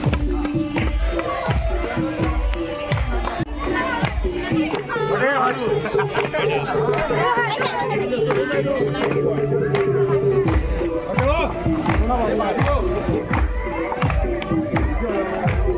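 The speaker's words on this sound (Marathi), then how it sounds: "खूप गर्दी व्हायला लागलेली आहे" A large crowd gathers at a village tarpa dance program in Umroli, with press and cameras present. Dense chatter and overlapping voices fill the scene continuously, with occasional shouts and a steady low tone running underneath.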